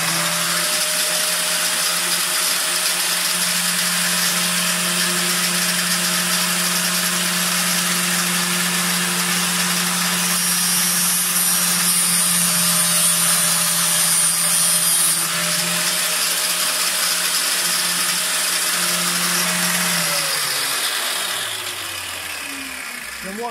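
Homemade circular saw motor running, a steady loud droning hum with constant tones that holds for about twenty seconds before winding down at the end.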